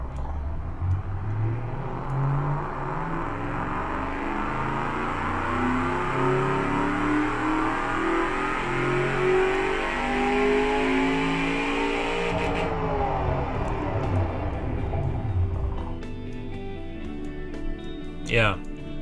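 A loud, unmuffled 1977 Bellion engine with no catalytic converter revs in the Automation driving game, a deep rumbling drone that climbs and falls throughout while someone talks over it.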